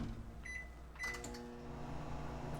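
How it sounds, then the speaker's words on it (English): A kitchen microwave oven runs to melt butter, a steady low hum with a few faint high tones, alone and at moderate distance. "I'm going to melt it in the microwave for just a second"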